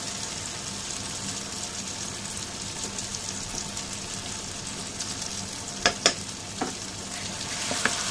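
Baby onions tossed in masala in a pan, a continuous close sizzle with soft stirring underneath and a few sharp spatula clinks near the end.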